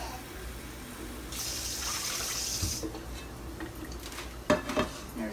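Water runs from a kitchen tap into a pot for cooking rice, a bright gushing burst lasting about a second and a half, followed by soft handling clatter and a couple of sharp knocks near the end.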